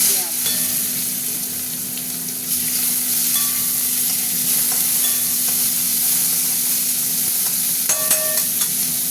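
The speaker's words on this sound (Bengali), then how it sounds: "পেঁয়াজটা একটু ভাজা ভাজা হোক" Onions fry in hot oil with dried red chillies and whole cumin, a steady close sizzle with occasional stirring scrapes and a brief louder crackle near the end.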